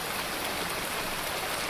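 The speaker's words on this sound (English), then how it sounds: "I can hear rain instead of toilet flushing" Rain falls steadily in a video game, a dense, even broadband hiss of drops with no breaks, moderately loud and alone.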